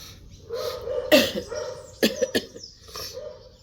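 A few sharp coughs from one person, close up, a single burst followed by a quick cluster of three, with quiet breaths between.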